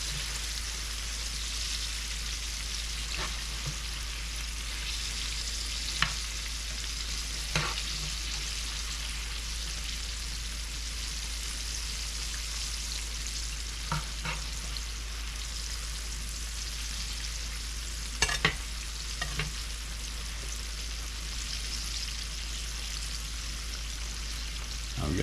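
Okra frying in hot oil on high heat gives off a steady, even sizzle throughout, broken now and then by faint clicks and scrapes of a spoon turning the pieces.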